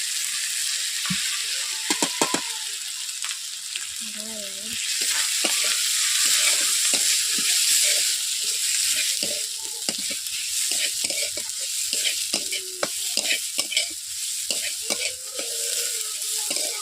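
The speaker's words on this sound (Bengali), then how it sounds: "হলুদগুলোকে ভালো করে নেড়ে দিচ্ছি" A spoon stirs turmeric into mung dal frying in a pan for Durga Puja bhoger khichuri, with a steady oily sizzle under repeated scraping and knocking strokes against the pot, close and fairly loud, with no talking.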